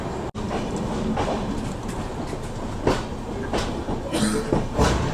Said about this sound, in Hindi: अभी अपनी संपर्क क्रांति का डिपार्चर हो गया है नागपुर जंक्शन से।